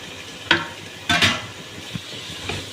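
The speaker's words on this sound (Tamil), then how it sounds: "இப்போ இந்த தக்காளி பழம் அது கூட ஆட் பண்ணிப்போம். தக்காளி வந்து நல்லா வதங்கணும்." Chopped tomatoes frying in a pan for chicken biryani give a low, steady sizzle, broken by a few short scraping strokes of a spoon stirring them.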